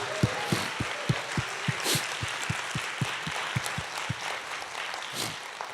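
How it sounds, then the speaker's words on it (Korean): A church congregation at a Sunday worship service claps in a steady rhythmic beat, sharp even claps about three per second over a dense background wash of crowd sound, fairly near and moderately loud. "우리 그 주님 앞에 영광의 박수 올립니다."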